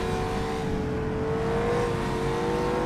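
An opponent's race car engine in the rFactor sim on the 1967 Targa Florio road course, a loud, steady high-pitched drone holding a near-constant note, close by.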